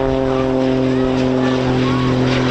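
A knife-edge takeoff by an aircraft with a Lycoming piston engine and two Screaming Lynx turbojets at an airshow: loud, steady propeller drone with strong engine harmonics and a rising jet whine over it.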